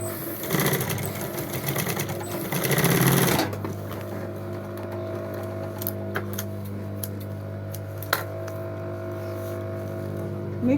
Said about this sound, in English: I will now stitch it